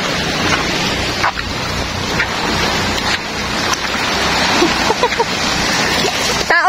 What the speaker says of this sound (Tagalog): Kaya ang imong mabatian is sounds of waves